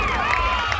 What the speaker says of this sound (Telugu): గట్టిగా చప్పట్లతో, గట్టిగా మోగాలి